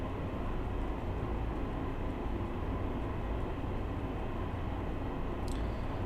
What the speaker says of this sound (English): I'm just going to allow the train to coast for a moment